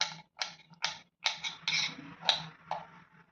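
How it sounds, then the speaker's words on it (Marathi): A knife cutting washed green chillies into medium pieces on a board, about eight crisp separate chops in an uneven rhythm, close and fairly quiet. "असे मिरचीचे तुकडे करून घेऊयात"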